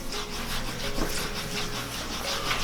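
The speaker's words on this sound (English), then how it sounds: "take a lemon wedge, rub it where the onion's going to be cut" A lemon wedge rubbed over the surface of a whole onion before cutting gives soft, close, scratchy rubbing strokes repeating in a steady back-and-forth rhythm, heard alone without voices.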